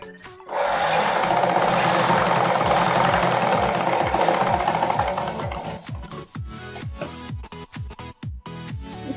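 An electric sewing machine runs steadily while stitching a pleat on a blouse, a continuous whirring buzz that slows into separate rhythmic needle thumps near the end, close and fairly loud.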